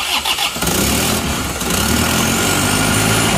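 A motorcycle engine is started after cylinder work, a brief starter crank that catches into a loud, steady running roar close by.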